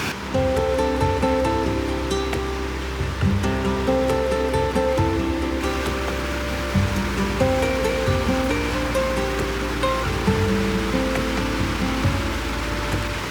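A steady roar of rushing water from a waterfall in Iceland fills the scene, with music playing throughout.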